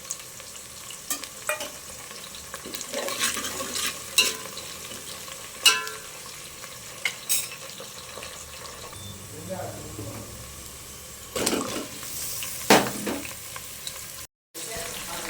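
Dried red chilies and curry leaves fry in hot oil for radish sambar, with a low sizzle under scattered sharp clinks and stirring knocks, plus brief running water partway through.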